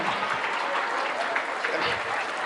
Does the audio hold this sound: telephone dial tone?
no